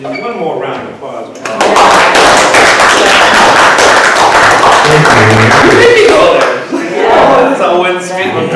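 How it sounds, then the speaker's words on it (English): Audience applause at an open mic night, a sustained burst of crowd clapping and cheering that rises and holds for several seconds, with voices mixed in. "One more round of applause."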